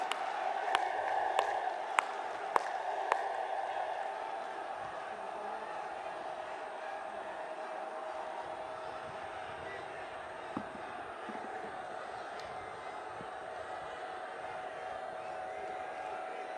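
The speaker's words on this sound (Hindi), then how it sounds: "खड़े होकर अपने स्थानों से तालियों के गड़गड़ाहट से जबरदस्त स्वागत करें मित्रों" Crowd cheering and applause at a BJP political rally, a broad, steady roar of many voices with a few sharp shouts near the start, continuing at a moderate, distant level throughout.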